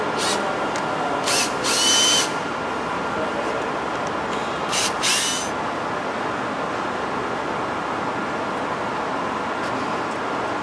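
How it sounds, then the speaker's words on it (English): Power drill backing screws out of parts on a waterjet cutting table, with two short high whirring bursts near the start and around five seconds, over steady loud shop background noise. "We're going to undo the screws, get them off the table, and get them to inspection."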